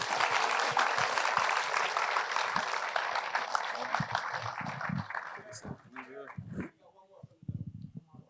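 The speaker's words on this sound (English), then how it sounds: "round of applause for our guy, Noah Clowney." Audience applause rings out at a Brooklyn premiere Q&A, a broad burst of clapping that holds strong for several seconds, then thins and fades as people start talking and a dog barks and whimpers nearby.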